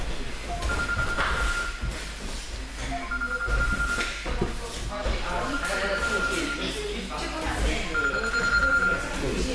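A telephone ringing in repeated short electronic bursts at regular intervals, partly buried under ongoing talk and room noise.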